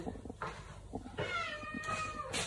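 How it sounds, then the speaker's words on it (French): A cat meows indoors, several short close calls followed by a longer drawn-out wavering meow, with small household noises in between. "Et un chat."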